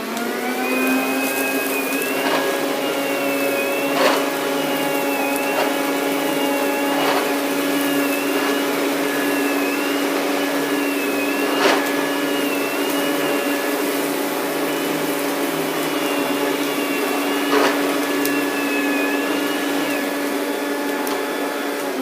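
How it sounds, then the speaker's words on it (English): A vacuum cleaner runs over carpet ahead of carpet cleaning, a loud, steady whining motor drone held close throughout, with periodic brief pitch wobbles and knocks as it is pushed back and forth, no talking. "I'm just going to give a quick vacuum here."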